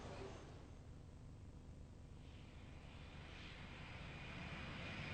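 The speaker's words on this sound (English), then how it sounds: "The first plane eventually leaves just in time on its proving flight to Manchester" A passenger airliner on a proving flight to Manchester takes off, its broad jet roar rumbling steadily throughout and swelling slightly toward the end.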